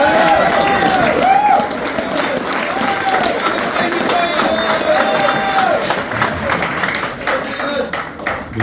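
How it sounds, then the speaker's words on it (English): Applause and cheering from a crowd at a GAA club draw in Glenswilly, steady dense clapping running throughout, near and loud, with voices mixed in. "David, give him a round of applause."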